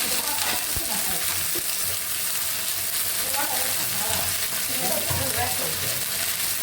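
Okra frying in a pan gives a loud, steady sizzle throughout, with a few stirring knocks and scrapes up close and faint voices in the background.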